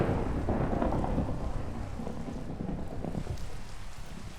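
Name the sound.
thunderstorm and rain in the video game Minecraft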